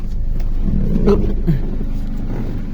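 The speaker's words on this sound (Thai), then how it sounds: "ตอนนี้ผมติดเครื่องอยู่นะครับคุณลูกค้า เครื่องเงียบๆนะครับคุณลูกค้า" A 2010 Honda Civic idling nearby, a low steady engine rumble with a faint rise in the middle and no talk over it.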